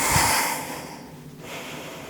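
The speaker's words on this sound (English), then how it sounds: "So belly breathing would look like" A person demonstrating belly breathing, one long audible breath drawn through the nose with a snort-like hiss, then easing off into a quieter exhale, heard close and without talk.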